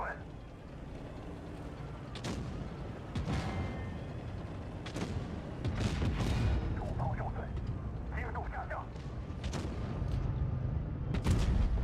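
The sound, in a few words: tank cannon firing in video game World of Tanks Blitz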